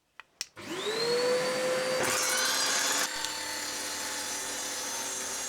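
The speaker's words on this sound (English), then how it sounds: "First I've got to get it trimmed down to size on the table saw." A table saw spins up with a rising whine and then bites into a European oak board, the cut adding a louder, rougher burst for about a second before the blade keeps running steadily.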